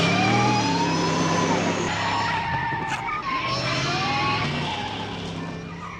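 The DeLorean car in Telltale's Back to the Future video game drives off, with loud tires screeching and skidding along with a revving engine that slowly fades as it pulls away.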